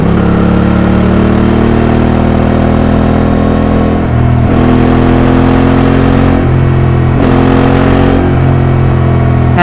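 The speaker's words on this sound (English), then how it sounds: "Isolates the voice, isolates the exhaust, and presents it to you." Honda Africa Twin motorcycle exhaust captured up close by a recorder tucked under the seat, a loud steady engine drone that dips twice as the throttle eases and comes back.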